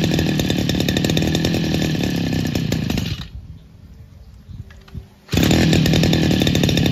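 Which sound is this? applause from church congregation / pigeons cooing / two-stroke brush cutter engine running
two-stroke brush cutter engine running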